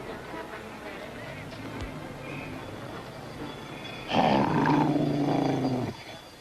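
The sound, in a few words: dog growling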